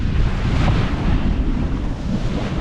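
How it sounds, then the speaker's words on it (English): Steady wind rush and wave wash aboard a sailboat reaching across the Inner Sea in bouncy conditions, a continuous loud roar with buffeting against the microphone and no voices. "here's us just sailing along."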